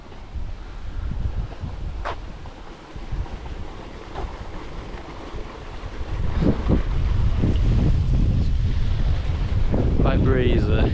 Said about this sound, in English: Quite breezy.